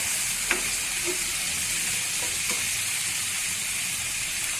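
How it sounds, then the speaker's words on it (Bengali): Small icha shrimp sizzle in a pan with already-fried onion: a steady, fairly loud hiss of frying oil that runs throughout, with a few faint clicks and spatters and no talk. "এখন পেঁয়াজটা ভাজা হওয়ার পর ইচা মাছটা দিয়ে আবার ভাজতেছি"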